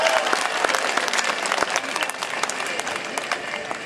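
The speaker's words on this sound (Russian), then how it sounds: "Аплодисменты!" A large crowd at an open-air citywide rally in Sevastopol in support of Novorossiya breaks into loud, sustained applause, with a few sharper individual claps standing out near the front.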